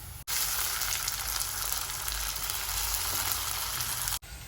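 Tomato hits browned, well-fried onion in a pan, setting off a loud, continuous close-up sizzle that holds steady throughout, with no voices.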